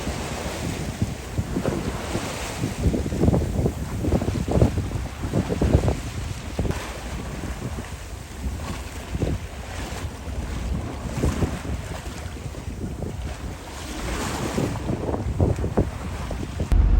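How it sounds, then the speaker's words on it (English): A sailboat crosses the Wide Bay Bar in Queensland, with steady gusting wind buffeting the microphone over the rush and crash of breaking waves and the hull slapping through surf. The sound is loud and continuous, with no voices. "We just went over a bank and the waves were breaking, and it was pretty hectic, but we can still see breaking waves."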